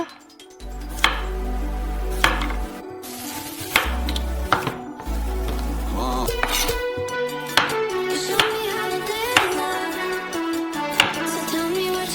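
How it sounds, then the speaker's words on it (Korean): Carrots are chopped on a cutting board as vegetable prep for a homemade lasagna, with a dozen or so sharp knife knocks at an uneven pace, mostly under loud music with a heavy bass line. "당근을 반으로 자르고 길쭉하게 썰어주세요."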